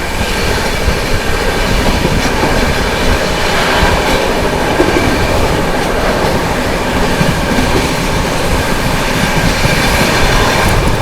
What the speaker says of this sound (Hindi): Shiv Ganga superfast express overtaking Vaishali express